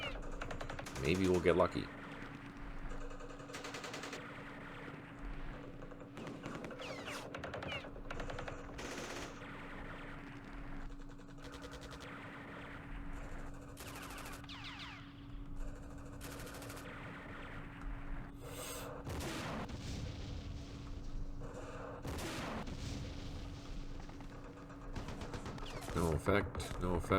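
Bursts of gunfire and impact effects sound from the Campaign Series Vietnam wargame during the Battle of Hue, quiet and scattered across the stretch, while someone talks over them.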